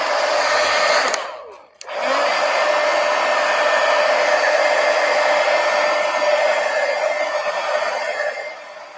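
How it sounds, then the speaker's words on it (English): A heat gun blows steadily over a mixed media artwork to dry it, a loud, even whooshing hiss that cuts out briefly after the first second, then runs on without a break. "Now I am going to hit it with the heat gun just to make sure it's dry here."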